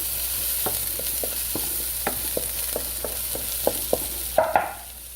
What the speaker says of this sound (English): Mix all that together. Let it saute for a little time.